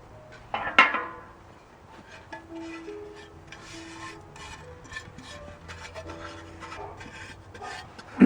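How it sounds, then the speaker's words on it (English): Screws are fitted and driven back into the cover of a vintage Electrolux power nozzle, giving close scraping, rasping turns with a sharp clink near the start and faint metallic ticks. "we'll put the two screws back in there"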